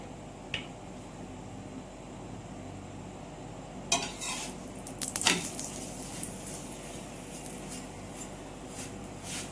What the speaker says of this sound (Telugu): ఆయిల్ వేసుకొని ఇలా తిప్పతా కాల్చుకోవాలి